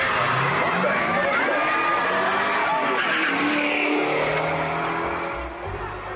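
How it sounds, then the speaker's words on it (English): Electric car with a Zilla power converter drag racing a petrol car, loud engine roar and screeching tires sweeping up and down continuously, heard close with crowd noise underneath. "John's little white Datsun, with a mighty Zilla power converter under the bonnet, is about to show a petrol car a thing or two."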